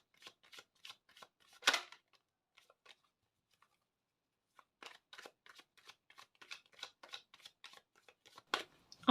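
Tarot cards being shuffled and riffled in a quiet room, a run of soft, quick papery flicks and slaps with one louder riffle early on, a pause of near silence, then another steady burst of crisp card flutters.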